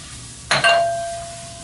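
One hard clack as a racquetball frozen in liquid nitrogen drops into a container, followed by a clear ringing tone that slowly fades out.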